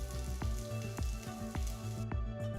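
Chopped shallots sizzle steadily in hot oil, a continuous frying crackle beneath a rhythmic background music beat.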